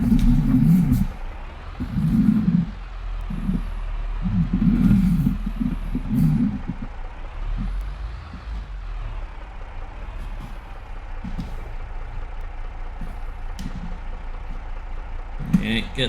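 A tractor pulling a trailer in a farming game, low engine rumble with rhythmic throbbing swells early on, then a steadier drone, with occasional hisses and clanks over it.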